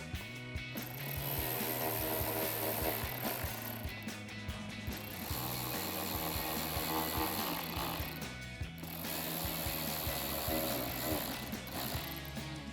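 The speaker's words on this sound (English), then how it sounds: "And we can take our T20 socket and tighten these down." Fog light bolts on a Jeep Gladiator JT being tightened with a T20 socket on a ratchet, repeated mechanical clicking of the pawl in steady runs, close, over background music and no talk.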